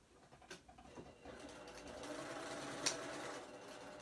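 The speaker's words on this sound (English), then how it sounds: "And I'm just sewing on the line." A sewing machine stitching a cotton bread basket liner, quiet and close, starting with a few faint taps before settling into a soft continuous whir, with one brief click partway through.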